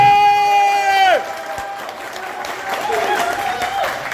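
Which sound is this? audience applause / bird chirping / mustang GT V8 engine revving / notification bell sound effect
audience applause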